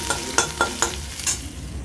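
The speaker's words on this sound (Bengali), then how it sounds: "এরপর দেব আদা কুচি। এটা ভালো করে ভাজতে থাকবো।" Chopped ginger frying in a pan for Bengali doi bora, a soft continuous sizzle broken by several sharp spatula scrapes and clinks against the pan.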